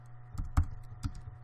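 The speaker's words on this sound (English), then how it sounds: "So now if I type" A few separate key taps on a computer keyboard, close and fairly quiet, landing irregularly over a second and a half with no talking.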